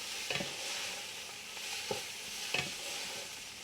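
Shredded cabbage stir-fries over a high flame in a quiet, continuous sizzle, broken by three soft spatula scrapes spaced about a second apart.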